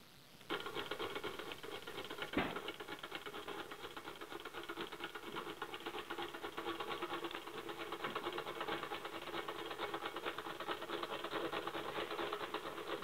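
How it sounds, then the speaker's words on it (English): A 1/8 scale Rider-Ericsson Stirling engine model built from a Myers Engine Works casting kit runs steadily, giving a quiet, even mechanical patter and light clatter, with one sharp knock near the start. "Ryder Erickson 1/8 scale Stirling engine."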